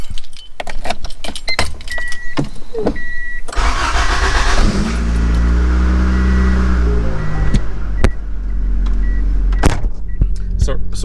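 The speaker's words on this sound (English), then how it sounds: "right now I'm just gonna reverse the car back in" Keys jangle and click, then a 1988–1991 Honda Civic/CRX engine cranks and starts, settling into a running idle that shifts as the car reverses, with a voice speaking briefly.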